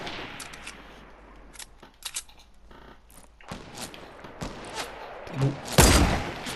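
Sniper rifle shots in the video game Fortnite, heard as a few sharp, loud bangs spread across a few seconds, with scattered thuds and game noise between them and little talk.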